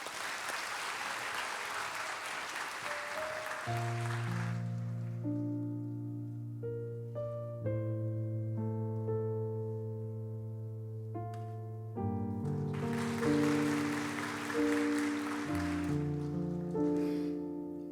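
A church congregation claps for a lay member walking up to give testimony at a training graduation ceremony. Dense applause opens the clip, then gives way to sustained organ-like chords, and a second burst of clapping rises near the end over the music.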